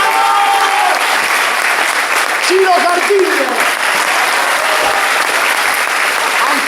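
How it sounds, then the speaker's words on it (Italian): A theatre audience claps for cast members at a comedy performance, dense sustained applause throughout while a voice announces names over it. "Un applauso."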